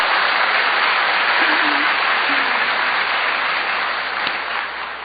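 A church congregation applauding during a sermon, a broad hissing wash of many hands clapping at once, steady and fairly loud, fading slightly toward the end.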